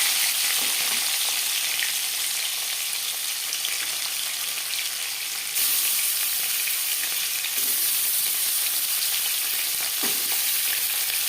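Marinated snakehead fish frying in hot mustard oil gives a loud, dense, continuous sizzle that holds steady throughout, with faint occasional clicks, close up and without speech.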